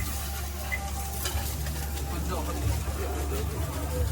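Boneless chicken frying on a street-food stall griddle and being stirred, a continuous sizzle with scraping over a low background rumble, while people talk.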